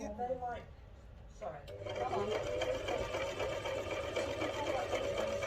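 A sewing machine stitches fabric at a beginner's sewing class. Its steady whir starts after a moment and keeps running close by, while voices talk over it.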